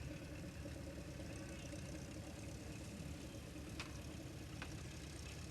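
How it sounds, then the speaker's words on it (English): A VAI airport luggage tow vehicle idles at a threshing show, its engine giving a steady low rumble at moderate distance, with two brief clicks partway through. "It's a tow vehicle."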